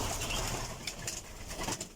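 Doves at a dove farm coo softly amid faint, steady background noise, with a few brief fuller calls and rustles toward the middle and end.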